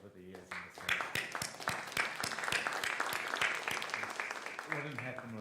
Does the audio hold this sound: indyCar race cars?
no